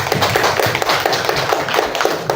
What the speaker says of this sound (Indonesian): Beri aplaus kepada teman-teman yang telah menjawab